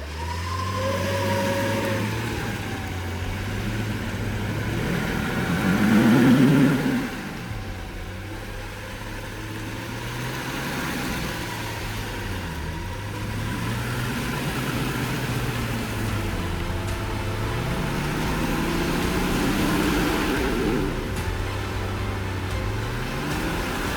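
An off-road vehicle stuck while overlanding in North Florida, its engine idling then revving in slow swells as gas is given, a mid-pitched drone rising and falling steadily over about twenty seconds without talk.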